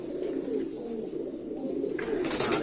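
Pigeons coo steadily in a loft, a low rolling murmur of several birds close by, with a brighter flutter or scrape near the end and no voices.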